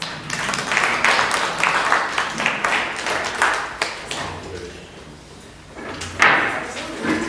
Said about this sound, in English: So please join me in applauding the panel and yourselves as well.